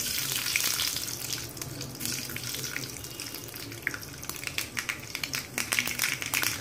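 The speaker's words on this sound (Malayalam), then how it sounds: "എണ്ണ ചൂടായി കഴിഞ്ഞ് ഇനി നമുക്ക് കടുക് ഇട്ട് കൊടുക്കാം." Mustard seeds splutter in hot oil at the start of a kadala (chickpea) curry, giving a steady hiss with scattered sharp crackles and pops that grow busier toward the end; no voices.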